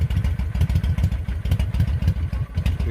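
A Honda Shadow 750 motorcycle idles on a warm day shortly after a no-choke start, its engine producing a close, loud, lumpy, uneven rhythmic thump that keeps steady throughout.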